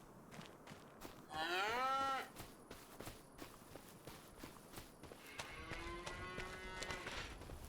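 Cows moo on a farm in the Krustoo Farms Homestead Survival Challenge video game, one loud low moo followed later by a longer, fainter one, with soft footsteps in the background.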